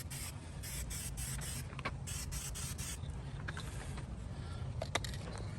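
A spray can hisses steadily on a smashed Chevrolet Volt being repaired in a driveway. The faint, continuous spray comes with brief sputtering pulses and a few small knocks.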